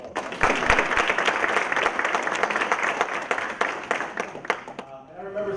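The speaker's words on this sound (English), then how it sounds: "please give them a round of applause." Sustained applause from a crowd at a town hall meeting, dense clapping that fills the whole stretch before thinning out near the end, with some voices mixed in.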